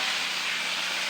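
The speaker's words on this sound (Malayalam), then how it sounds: "കടുക് ഇട്ടതിന് ശേഷം കറിവേപ്പില ഇടുക" Curry leaves sizzle in hot oil right after mustard seeds for a sardine curry, a steady loud broadband hiss that holds evenly throughout.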